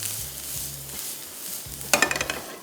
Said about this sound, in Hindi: हल्का से इसको किया फ्राई